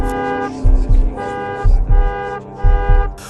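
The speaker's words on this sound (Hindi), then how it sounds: "कार ने जोर से हॉर्न दिया" A car horn honks loudly in repeated double blasts, three pairs of strong harmonic toots in quick succession, close and dominant with no talk.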